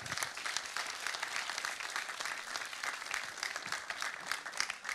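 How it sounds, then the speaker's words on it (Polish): Audience at the Mister Polski 2020 final gala applauds the male contestants, a continuous wash of crowd clapping heard from a distance, fairly faint but unbroken for the whole stretch. "Brawa dla chłopaków."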